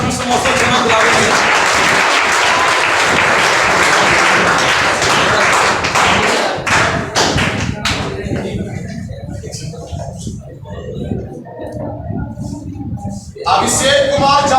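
An audience claps at a student talent award ceremony held by Shankar Classes in Gaya in 2022. A thick burst of clapping fills the first several seconds, then thins to scattered taps and thuds, with voices in the hall.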